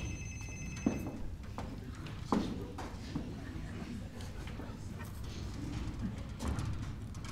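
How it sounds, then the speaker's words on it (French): A telephone rings faintly in a busy room during an amateur theatre play, its tone repeating under steady background noise and occasional knocks. "Téléphone."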